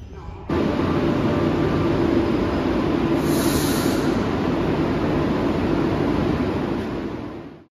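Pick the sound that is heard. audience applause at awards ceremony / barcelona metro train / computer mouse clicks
barcelona metro train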